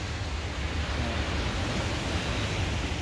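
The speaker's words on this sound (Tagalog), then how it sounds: "Alon ng tubig." Ocean waves washing in at a resort beach, a continuous broad roar of surf heard up close with no voices.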